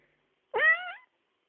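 A cat gives a single clear meow that rises and then falls, close and alone against silence, lasting about half a second.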